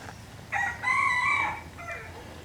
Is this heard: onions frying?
no